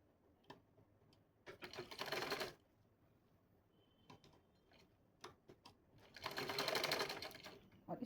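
A sewing machine runs in two bursts of fast, steady stitching along a pant leg, with scattered clicks and taps of fabric handling between the runs and no talking.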